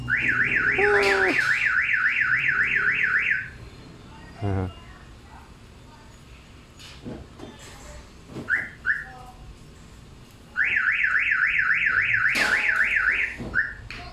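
A loud van alarm wails in a rapid warbling siren, stops for several seconds with scattered faint sounds, then starts again, fairly close.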